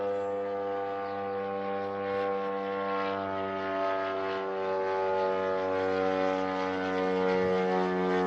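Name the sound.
attack drone flying in near Podolsk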